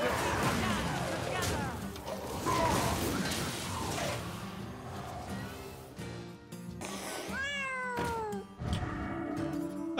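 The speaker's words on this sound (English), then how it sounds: "A cat! That's so cute! Adorable! A cute cat." A cartoonish cat meows in the Hearthstone card game, a few rising and falling mews near the end, layered over busy game music, sound effects and character voice lines.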